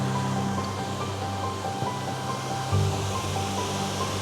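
Water pours steadily at Won Wondah Falls in Great Otway National Park, a constant broadband rush heard from a viewing platform, moderately loud and unbroken, with no talking.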